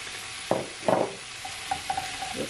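A utensil stirs seasoning into cabbage cooking in a pot for Jamaican steamed cabbage, giving a few soft scraping and clinking strokes over a faint steady sizzle, close and quiet.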